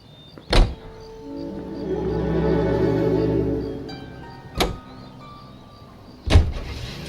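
A car in the video game L.A. Noire hums along with a steady engine drone, broken by three sharp thuds like doors shutting, near and fairly loud, with no talking.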